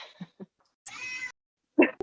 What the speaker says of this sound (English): Loud kitty cat.